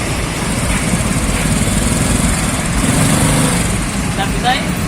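Honda Supra motorcycle engine running and revving up close, a loud buzzing motor drone that rises slightly, with voices talking over it.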